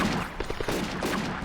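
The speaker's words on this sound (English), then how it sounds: "this is Italian gun, and we are shooting at it" Short bursts of gunfire aimed at an Italian gun in the video game Combat Mission: Afrika Korps, a quick cluster of rapid cracks over a steady rumbling battle background.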